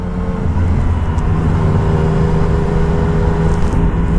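A Yamaha Niken motorcycle with the MT-09 engine on a first ride with new tyres. Its engine gives a loud, steady drone mixed with wind rush, with no clear revving and no speech.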